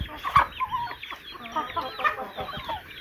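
Chickens cluck continuously close by, a busy chatter of short clucks and squawks over a low outdoor background with no speech.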